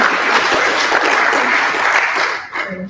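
A conference audience applauds the president and chairman of the WTN tourism think tank, dense sustained clapping filling the room, tapering off at the end.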